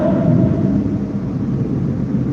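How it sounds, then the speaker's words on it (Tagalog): Loud thunder during a storm, a heavy continuous low rumble that stays strong throughout, heard alone. "Agoy, ang lakas na naman ng kulog."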